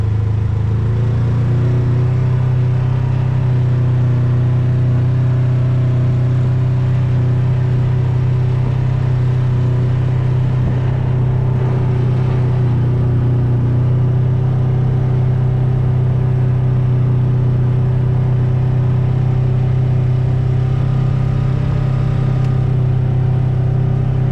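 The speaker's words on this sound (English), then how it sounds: "get ready, we're going to rip down the trails at maybe as fast as 10 miles an hour" A small vehicle rolls slowly along forest trails up north, its steady engine drone and low rumble holding constant and close throughout with no voices.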